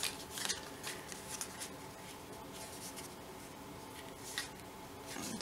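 Scissors snipping off pulled-tight floss, a few crisp close cuts and light rustling handling sounds in an otherwise quiet room.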